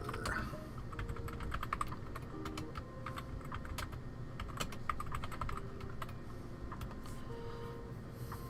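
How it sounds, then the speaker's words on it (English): Someone types quickly on a computer keyboard during a live miniature-painting stream. The keys make a dense run of close, light clicks that continues throughout. "Oh, I should get in the typing window here."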